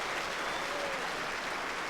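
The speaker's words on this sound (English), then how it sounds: "The crowd clapped that all the way in." A crowd at the 2016 World Bowls Championship applauds a good lawn bowls delivery with steady, dense clapping that holds at an even level throughout.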